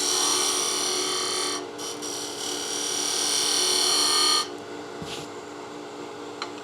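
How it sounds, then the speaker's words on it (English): A wood lathe spins a wooden salt and pepper mill blank while a tool makes a slicing cut, giving a loud steady whine and hiss that briefly dips, then cuts off, leaving the quieter motor hum with a few light knocks. "Just going to cut those peeled fibers off, and then we'll do a nice slicing cut"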